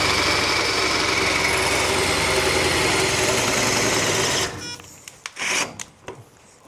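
A loud, steady whirring grind of a RUKO twist drill bit with FLOWSTEP point boring a 20 mm hole into steel without pre-drilling runs for several seconds, then cuts off, followed by a few clanks and rattles.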